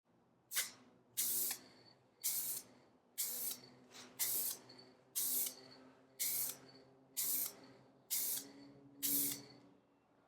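Base coat paint is sprayed onto a Honda Accord in about ten evenly spaced, close, loud bursts of spray-gun hiss, each roughly a second long with short pauses between.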